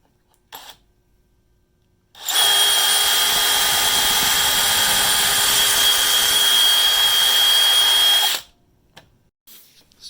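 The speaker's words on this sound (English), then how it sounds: "So I just finished drilling 30 holes." Drill boring a pocket hole with a Kreg Jig into a 2x6 for a garden bed frame, one loud continuous whine lasting about six seconds, close up, with no talking.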